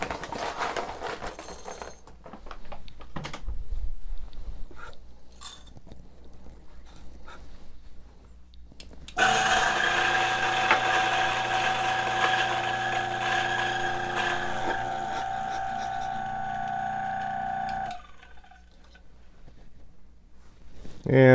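A Turin DF64 coffee grinder grinds a scoop of beans set to about 40, a loud, steady motor whir with a buzzing rattle that runs for around nine seconds, then winds down and cuts off. Quieter handling noises and talk come before it.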